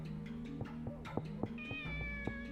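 A cat in the video game Shenmue meows several times in short, clear calls over steady game background music, with no talking.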